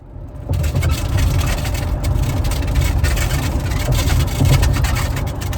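Car interior while driving with a styrofoam radiant heat sheet inside, a steady low engine and road rumble with scattered squeaking and rattling on top, fairly loud and continuous after a brief quiet start.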